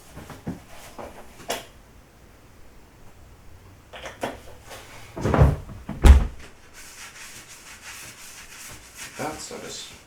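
Rummaging for a baking pan in a kitchen cupboard while making brown raisin bread: scattered rubbing and scraping, then a couple of loud knocks and clatters as the pan is pulled out, and some faint background noise.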